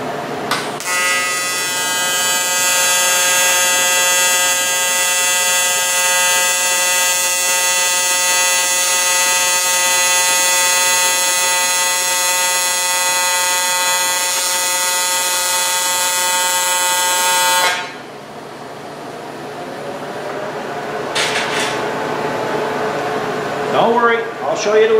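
Steady TIG welding arc on argon shielding gas, amperage set by a foot pedal, buzzing loud and constant for about seventeen seconds and then cutting off, leaving faint room noise and a few small clicks.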